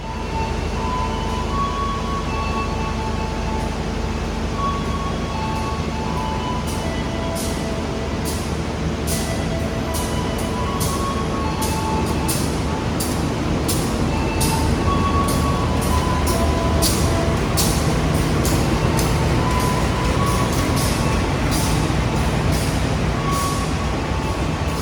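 An extra Kutojaya Selatan passenger service heard from inside an economy coach while running: a loud, steady rumble of wheels and carriage noise with repeated sharp clicks and rattles, continuous throughout.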